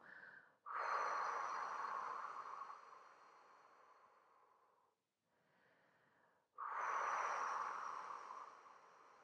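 Two long, soft exhalations during a sophrology relaxation exercise, each a steady breathy rush fading slowly, separated by a brief quiet inhale, close and alone without talk.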